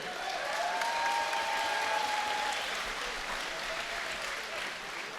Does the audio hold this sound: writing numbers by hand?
no